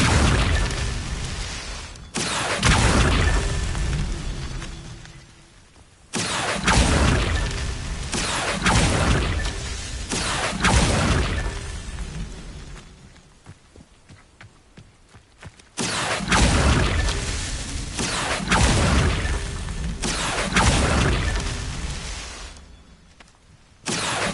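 Magic spell effects from the Hogwarts Legacy video game during a Merlin trial, with Levioso, Incendio and Accio cast in turn: loud whooshing, booming bursts that come in several separate waves with short quieter gaps between them.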